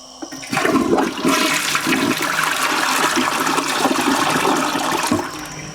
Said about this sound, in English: we're gathered here today to experience the first flushing of the toilet